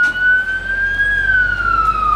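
A rescue vehicle's wailing siren rises and falls steadily, loud and close, with a low vehicle rumble underneath and no talking, in Songkhla, Thailand.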